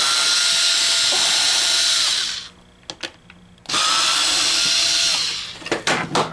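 A power screwdriver backs out screws holding the power box on a Coinco BA30B dollar bill validator, two long close whirring bursts separated by a quiet pause with brief clicks, then a short final run.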